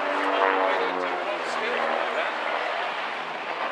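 Steady drone of an RV8 aircraft with a 180 horsepower Lycoming engine flying at Lowestoft Air Festival, a loud continuous propeller roar that fades slightly as it passes.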